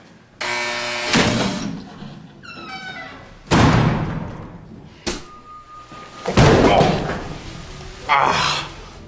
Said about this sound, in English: Slamming someone's head into a table is the work of scriptwriters.